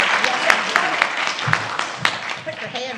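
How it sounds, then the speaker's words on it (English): Church congregation clapping for a few seconds, with scattered sharp claps and a voice talking over the applause. "Big round of applause."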